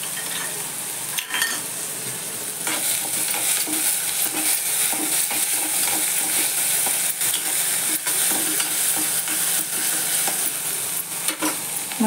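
Curry leaves and vegetables sizzle steadily in a hot pan while being stirred, with frying hiss constant throughout and occasional soft scrapes of a spoon, fairly close.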